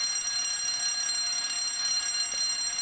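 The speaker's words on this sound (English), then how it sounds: "Activate the manual fire alarm call point." A building fire alarm rings continuously, a loud, steady electronic bell tone with bright high overtones and no pauses, sounding alone without voices.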